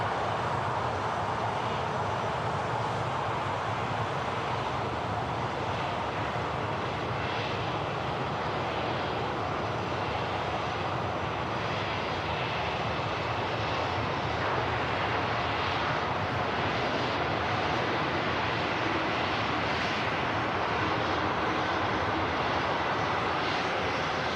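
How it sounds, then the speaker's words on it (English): Steady loud roar of jet engines from a TUI Boeing Dreamliner at Manchester Airport, a broad continuous rumble that holds nearly constant for the whole stretch. "TUI Dreamliner about to pop into shot now."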